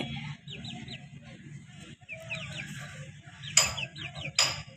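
Two grown chickens cluck and chirp in short bursts nearby over a low background hum, with a couple of sharper, louder calls toward the end.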